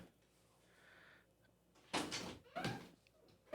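A cat attacks an indoor door, producing two loud, close bangs and rattles about half a second apart, with quieter scuffing before them.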